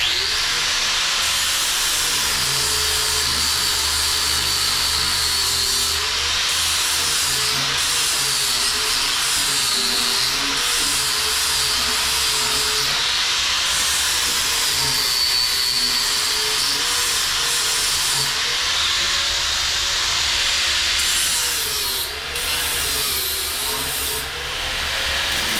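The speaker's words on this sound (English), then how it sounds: "I gotta grind some of this previous repair off of here." Angle grinder grinding old weld repair off a welded motorcycle frame, a loud continuous hissing whine with pitch wavering as the disc bites and eases, steady throughout with no talk.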